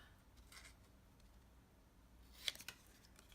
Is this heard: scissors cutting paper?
yes